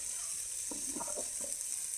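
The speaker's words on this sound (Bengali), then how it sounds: "ভালো করে এটাকে ভেজে নেব।" Rice frying in a pan with tomato, salt, turmeric and chili powder gives a faint, steady sizzle, with a few soft stirring scrapes in the middle.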